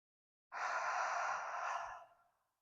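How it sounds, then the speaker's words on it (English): A single deep, slow breath drawn in and released during a 360 breathing exercise lying in a 90/90 position, a steady airy rush lasting about a second and a half, close and clear with no talking. "So inhale, exhale."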